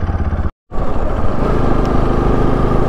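A motorcycle engine runs steadily and close by, loud and continuous after a brief cut near the start, with no talk over it.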